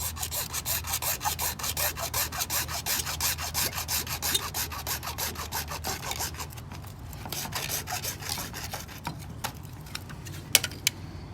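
A hacksaw blade or pipe cutter works through pipe during a hose bibb repair with fast, steady rasping strokes that slow and thin out toward the end, finishing in a few sharp clicks.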